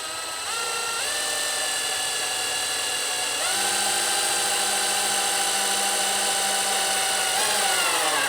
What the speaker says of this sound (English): Should probably pre-drill, but what's the fun in that?